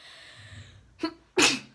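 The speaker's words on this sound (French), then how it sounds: "Je vous prie de m'excuser pour cet éternuement." A close, sharp sneeze, preceded by a smaller catch of breath, ending in a loud explosive burst.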